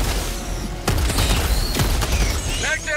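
Video game gunfire sounds as several sharp, loud shots spaced over a few seconds amid steady background game noise and clatter, with a voice briefly audible.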